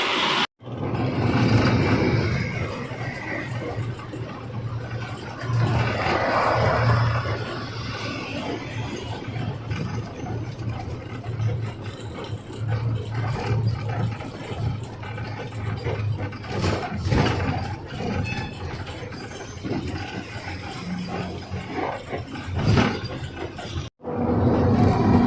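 A loaded lorry's engine runs steadily while driving on the highway past Nellore, a continuous low drone with mechanical rattling throughout and a brief dropout near the end.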